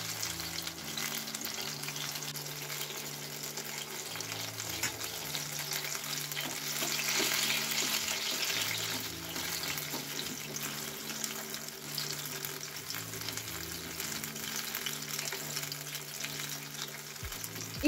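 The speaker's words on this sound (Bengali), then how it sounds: "তো এখানে চিকেনগুলো খুব সুন্দর সুন্দর লাল লাল করে ভাজা হচ্ছে" Chicken pakora pieces deep-fry in oil with a steady, bubbling sizzle that swells briefly, heard beneath soft background music for a long stretch, with an occasional utensil knock.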